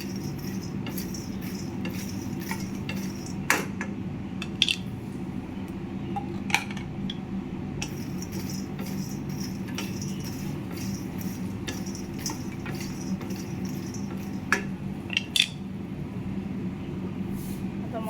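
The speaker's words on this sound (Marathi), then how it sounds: "अशा प्रकारे मखाने छान खसार होईपर्यंत भाजून घ्या" Makhana (fox nuts) dry-roasting in a pan: a steady background hiss and hum with scattered light clicks and scrapes as the nuts are stirred, at moderate volume and without pause.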